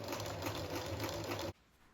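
Sewing machine stitching a circle of fabric for a Greenland flag, a steady rapid mechanical chatter of the needle running for about a second and a half before stopping abruptly.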